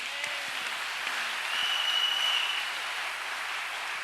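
A church congregation at a thanksgiving service claps together in sustained, even applause that swells slightly midway and holds steady, with no voices rising above it.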